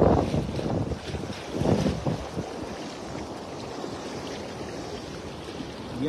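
Strong wind buffeting a fishing boat on open water, a loud rushing roar with gusty swells in the first two seconds, then a steadier blustery hiss of wind and water.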